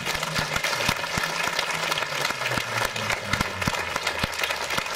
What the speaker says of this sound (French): je voudrais que vous les applaudissiez aujourd'hui